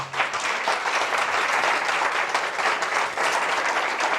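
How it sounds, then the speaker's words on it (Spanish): An audience at a film screening and colloquium applauds a guest for several seconds, a full, steady roar of clapping with no voices over it. "Un aplauso, por favor, para Carlos."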